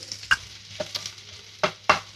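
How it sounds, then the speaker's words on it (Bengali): Chopped onion tossed into hot oil in a heated kadai, with a faint low sizzle broken by a few sharp scraping strokes of a stirring spoon at irregular moments, no voices. "এবার এতে দিয়ে দিচ্ছি পেঁয়াজ কুচি"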